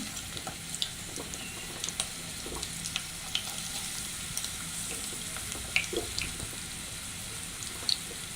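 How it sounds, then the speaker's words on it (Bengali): Chopped onions frying in a hot pan for a prawn and bamboo shoot curry, a steady soft sizzle with scattered crackles and a few faint utensil clicks, no talking. "আমি এখন পেঁয়াজ কুচি দিয়ে দিচ্ছি"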